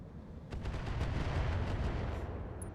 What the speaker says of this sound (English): our hoplite can position here and can launch another Thumper artillery attack on the Igor